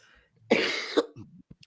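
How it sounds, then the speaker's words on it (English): A single harsh cough, close and fairly loud, followed by a brief throat-clearing rasp and a couple of small clicks. "Sorry for the cough."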